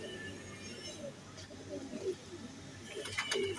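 Salary teddy pigeons, a breeding pair, cooing softly in a few low throaty calls against quiet background noise.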